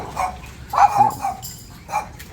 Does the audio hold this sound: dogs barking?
yes